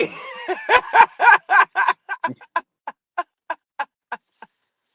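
A voice imitates a rooster crowing, starting with loud drawn-out syllables that break into a series of short, evenly spaced clucking bursts fading out.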